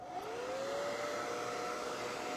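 A dryer blows air over a textured moon and roses painting, a steady close whir with a faint tone that rises and then holds.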